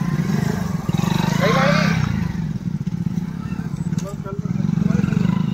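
A motorcycle rides along a muddy, rain-soaked village path toward fields, its engine droning loud and close with rough revving, while people talk over the noise.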